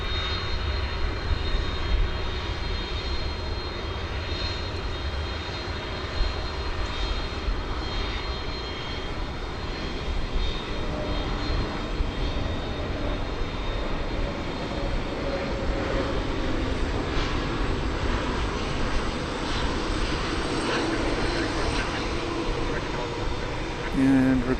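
An MD-11 airliner taxiing at DFW Airport toward the east side for takeoff, giving a steady, continuous engine rumble and whine that holds level throughout, with speech faintly present in the background.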